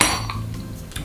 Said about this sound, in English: with the back end of the knife, just tap the lid all the way around